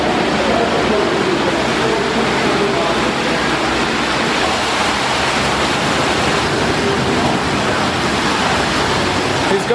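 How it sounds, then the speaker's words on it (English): A large waterfall pours inside an underground storm drain tunnel in Melbourne, a loud, steady, broadband roar of rushing water that fills the space without pause. "We're approaching a ginormous waterfall."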